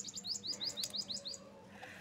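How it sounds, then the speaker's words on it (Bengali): Small birds chirping outdoors, a quick run of about eight bright tweets in the first second and a half, then a fainter hiss of background; no one speaks. "পাখির যে শব্দ পাওয়া যাচ্ছে"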